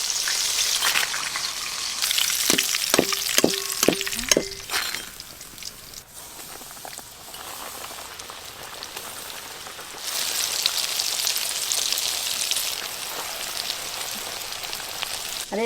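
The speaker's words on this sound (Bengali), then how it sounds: "হ্যাঁ, KFC বেশ কড়া করে ভাজা হচ্ছে, বেশ লাল লাল করে।" KFC-style chicken pieces deep fry in hot oil with a steady, rain-like sizzle. A few quick metallic clinks from a utensil are heard early, then the crackle swells louder again near the end.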